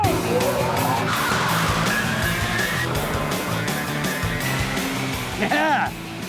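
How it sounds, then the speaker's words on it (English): An electric car fitted with fat Formula 3 racing tyres launches in a drag race with a loud tyre-skidding whine and a rising motor pitch, under shouting voices throughout. "So let's run the drag race again."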